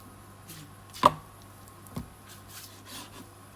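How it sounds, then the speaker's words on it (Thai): A knife cuts thinly through chicken meat for larb on a board, giving one sharp near thunk followed by a softer second cut and faint later taps in a quiet kitchen. "ก็จะหั่นบางๆค่ะ"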